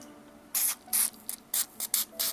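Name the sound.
spraying Balisol oil from a can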